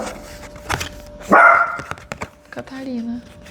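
A dog barks indoors, giving a few sharp, close barks and a higher whining yelp mixed with household noise and brief talk.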